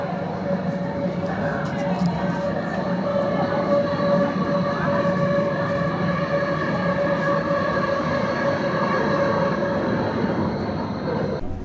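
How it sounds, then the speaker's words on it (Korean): A Swiss mountain train rolls along its rails with a steady, loud rumble, sustained tonal whine and wheel squeal, continuous and close throughout. "다시 내려가기 위해서 열차를 기다리고 있습니다."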